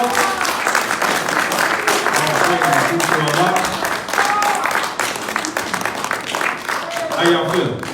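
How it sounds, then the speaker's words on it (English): Sustained, dense applause from a large crowd at a religious gathering, steady and loud for about seven seconds, with cheers and voices rising through the clapping. "Give yourselves a round of applause."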